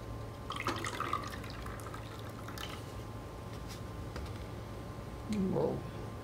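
Hot water that has cooled to 75.8 °C pours into a container during a heat experiment. A brief splashing pour comes near the end after a few faint clicks and drips, with no talking.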